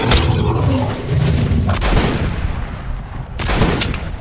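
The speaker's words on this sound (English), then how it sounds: "I have my favorite weapon in the game now, this quad barrel shotgun" Quad barrel shotgun firing in Metro: Last Light: loud, booming blasts, one at the start, another near the middle and a third near the end, over a dense, noisy combat backdrop.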